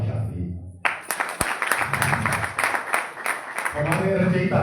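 An audience bursts into sustained applause at a ceremony in Jammu, loud crowd clapping of many hands that swells after a voice at a microphone and continues while speech returns near the end.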